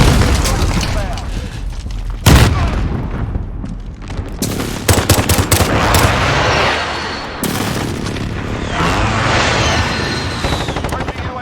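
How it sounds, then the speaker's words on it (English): Precision airstrike explosions and gunfire in Call of Duty: Modern Warfare on the Renetti map, with heavy booms and bursts of rapid automatic fire under a dense battle din, and voices calling out over it. "Be advised, friendly precision airstrike inbound."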